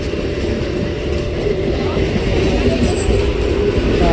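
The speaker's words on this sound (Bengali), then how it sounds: "ট্রেনটা ছেড়ে দিয়েছে দেখো" A train pulls away from a station platform with a low, continuous rumble and rolling clatter that builds slightly, alongside faint metallic clinks.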